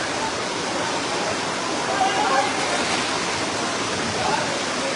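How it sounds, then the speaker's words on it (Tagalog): Typhoon Christine lashes a village in Lemery, Batangas with heavy rain and wind, a dense, unrelenting roar of pouring water and gusts filling the air at steady loudness. "Grabe ang bagyong Christine."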